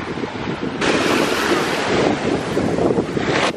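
Waves on a beach in Malaga wash and roar in a broad, rushing hiss that swells and fades, with wind buffeting the microphone.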